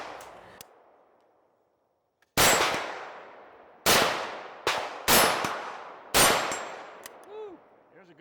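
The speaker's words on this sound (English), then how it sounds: "I'm shooting 100-yard steel, standing, of course, and I've got it on full power" Rifle shots fired standing at 100-yard steel targets ring out as five sharp, loud cracks, each with a decaying metallic ring, the first after a quiet pause and the rest in quick succession.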